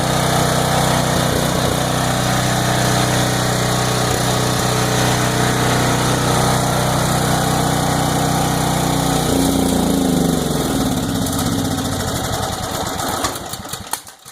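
A Briggs and Stratton Storm Responder tri-fuel generator engine runs loud and close with a steady droning roar, then dies, sputtering and winding down to silence in the final seconds.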